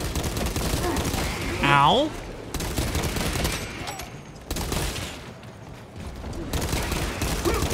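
Dense ranged gunfire and heavy shooting in Warhammer 40K: Space Marine 2 combat, with loud sustained bursts and repeated blasts running throughout, plus a short rising tonal effect and a brief spoken exclamation.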